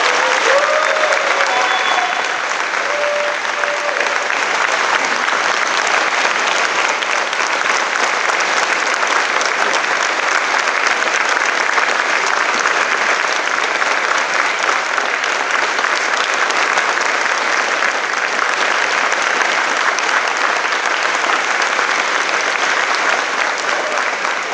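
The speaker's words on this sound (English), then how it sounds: "give them a round of applause, a long earned round of applause for the veterans 20 years since" Sustained, dense applause from a large audience honouring Ramadi veterans of 2/4, a loud, even wash of many hands clapping for over twenty seconds without a break, with a few faint voices mixed in.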